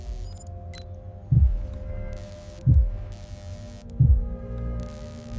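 An eel's heartbeat in an eel electricity factory: three deep, slow thumps about a second and a half apart, over a steady low mechanical hum.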